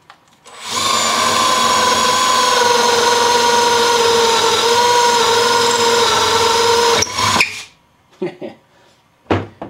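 A Festool CXS drill/driver runs at speed 2 in a steady, loud whir for about six seconds, then stops, followed by a few brief clicks and handling knocks.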